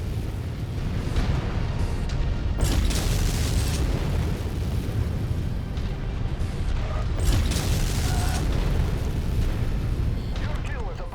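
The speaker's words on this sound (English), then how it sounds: "Going to continue the bombardment." Artillery bombardment in MechWarrior 5, with heavy booming explosions rolling continuously through the clip and sharper blasts near the 3 and 7.5 second marks, over a dense low battle rumble.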